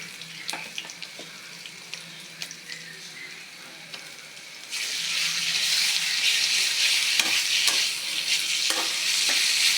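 Browned onions fry in a pan with ginger and garlic, starting as a soft sizzle with scattered stirring clicks, then swelling midway into a louder, bright hissing crackle as the new ingredients hit the oil, with no voices.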